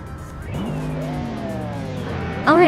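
Race cars thunder around the Twin Ring Motegi Oval in a racing video game, a field including a 1995 car and a GTV6. Engines whine and rise in pitch as the pack passes, with a sharper tire squeal near the end.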